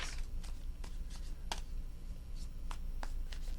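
Hands shuffling a tarot deck up close, giving repeated papery flicks and riffles at an uneven pace over a quiet room hum; no one speaks.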